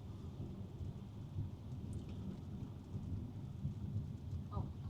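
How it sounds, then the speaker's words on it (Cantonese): Heavy typhoon rain pours steadily along a city street in Guangzhou, a dense continuous wash of noise close around, with faint low rumbles beneath and no voices. "而家雨勢又開始大啦"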